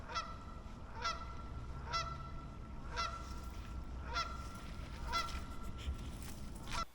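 A wild goose in a swamp honks repeatedly at a steady rhythm, about one call per second, clear and moderately distant, with no one talking.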